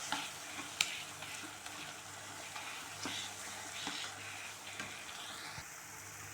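Banana being mashed with cane sugar and butter in a pan gives soft, quiet squelching and scraping with a faint sizzle underneath, plus a few light taps against the pan.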